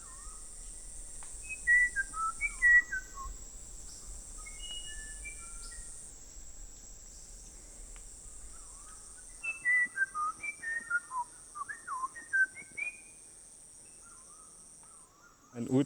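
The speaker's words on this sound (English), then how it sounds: "Suddenly, we hear the song of an uirapuru." An uirapuru sings in the Amazon rainforest: a few clear whistled phrases early on, then a longer burst of varied fluting notes, heard at moderate distance over a steady insect hum.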